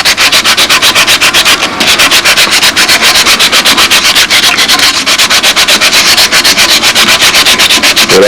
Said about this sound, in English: you need to get 80 grit sandpaper, and in this case I got some M600. I want to roughen this whole area up